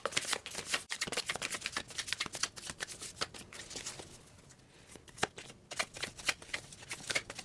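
Tarot cards shuffled close by in a rapid run of crisp riffling flutters and taps, continuous for several seconds with a brief lull in the middle, no speech.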